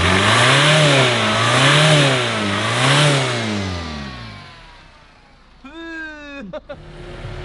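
A car's diesel engine in runaway after diesel was filled in place of motor oil roars at high, surging revs, rising and falling steadily before dying down; then whining, pitch-gliding sounds and sharp clanks follow.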